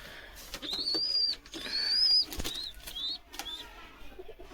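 A pair of Andhra/Madras pigeon chicks from a red-headed hen and a black-headed cock give thin, rising whistled squeaks, several short calls close by, mixed with soft rustling and brief wing flutters.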